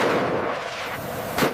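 An aircraft-mounted cannon built into the airframe fires in one loud, continuous roaring burst that rumbles on for over a second, with a sharper surge near the end, and no voices are heard.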